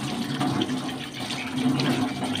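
A tap runs steadily into a sink while a face is being washed, a continuous close splashing rush with slight fluctuations and no talk.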